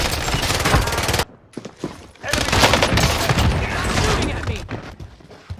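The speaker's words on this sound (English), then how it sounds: "Taking direct fire." Rapid gunfire in a first-person shooter game with DMR and Diamatti weapons: dense, loud automatic bursts crackle almost continuously, break off for a short gap, then resume in long strings of shots.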